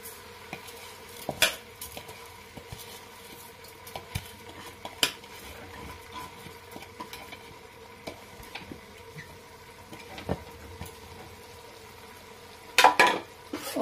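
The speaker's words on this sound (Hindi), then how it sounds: "अब इसमें मैं अपने चावल को ऐड करके थोड़ा सा भून लूं।" Rice stirred and fried in a pan of cooked masala for tahari, with a spoon scraping and clinking against the pan over a low steady sizzle, plus a louder clatter near the end.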